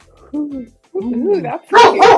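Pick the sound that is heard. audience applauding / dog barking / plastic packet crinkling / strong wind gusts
dog barking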